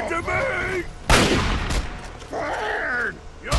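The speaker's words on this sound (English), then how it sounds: "He gets shot and he doesn't even care." Gunfire in the video game Fallout 3: a sharp loud blast midway, with game voices and effects around it.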